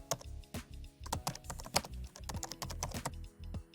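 Quiet, rapid typing on a computer keyboard, with irregular clicks and keystrokes at close range, as someone types a search into a trading chart's indicator box.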